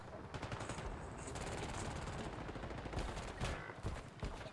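Rapid automatic gunfire in a multiplayer video game shooter, dense bursts of shots layered continuously through the moment with a few louder cracks toward the end.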